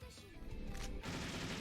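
A hate cannon attack fires in the video game The Caligula Effect: Overdose, a dense, loud burst of booming, crackling blasts that rolls on for over a second with no pause.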